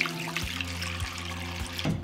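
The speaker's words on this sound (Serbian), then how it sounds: "Zatim ću sipati vodu do visine poklopca." Water pouring steadily into a large cooking pot filled with glass jars set on a cloth at the bottom, a continuous close splashing fill with no talking.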